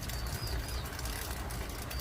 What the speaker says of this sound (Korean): 그리고 새소리도 들리네요